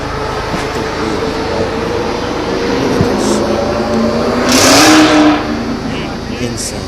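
A Honda S2000 engine revs at a nighttime car meet, a loud rising pull swelling briefly near the end over a constant crowd and traffic rumble, with people talking throughout.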